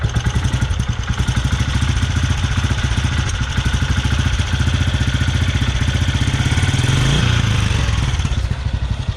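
A 2008 Royal Enfield Bullet Machismo 350 single-cylinder motorcycle idles steadily after being started with its electric self-starter, giving a loud, close, even thumping beat that runs throughout with a slight swell near the end.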